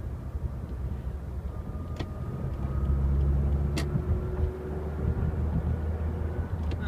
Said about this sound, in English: See how long that Fiat took to overtake?